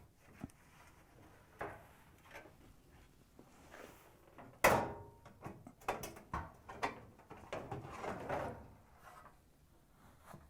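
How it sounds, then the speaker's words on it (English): A washer's bulkhead panel is pulled up and lifted off its top screws during a Whirlpool/KitchenAid/Maytag belt switch repair, giving a sharp metallic knock followed by a run of scraping clunks and rattles at close range, with no talking. "Pull the bulkhead up and remove it from the top screws."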